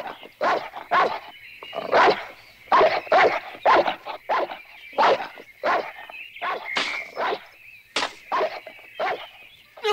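A cartoon dog from the animated series Bouba le petit ourson barks frantically in rapid, loud, repeated yelps over about ten seconds, with no talking.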